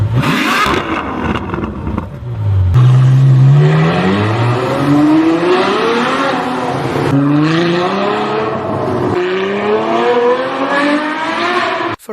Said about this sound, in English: Ferrari F12 launch control.